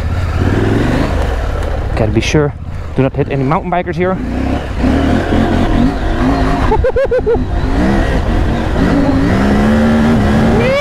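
A KTM 890 Adventure R motorcycle engine revving and accelerating up close, pitch rising and dropping through gear changes, with someone talking over it.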